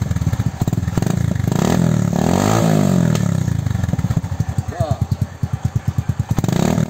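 Motorcycle fitted with a freshly refibered Apido exhaust pipe revving loudly up close, rising and falling through several throttle blips that end in a rapid pulsing idle, with a voice talking over part of it.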